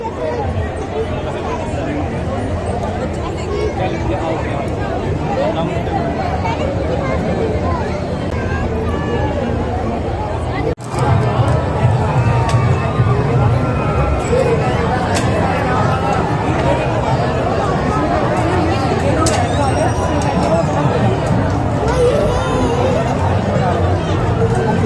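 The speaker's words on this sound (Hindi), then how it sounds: "यहाँ पे ना बहुत भीड़ होती है" A dense crowd hubbub fills a Dussehra fair, with steady overlapping chatter and voices close by and all around, and a sharp knock or bump partway through before the babble grows slightly louder.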